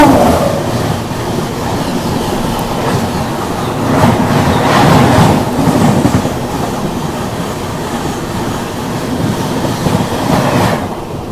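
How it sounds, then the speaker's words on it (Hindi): The Azamgarh–LTT Mumbai superfast train approaches, a loud, sustained rumble of wheels and cars with rolling clatter swelling and easing, close by and continuous, without speech. "सामने से भी आ रही है आजमगढ़ LTD मुंबई सुपरफास्ट"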